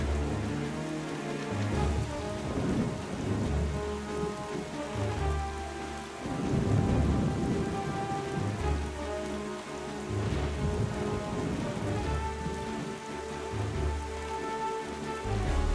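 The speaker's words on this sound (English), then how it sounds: "Look at all the rain." Steady rainfall and rumbling thunder from the video game The Legend of Zelda: The Wind Waker HD, a continuous rain wash with deep thunder rolls alongside soft in-game music, no voices.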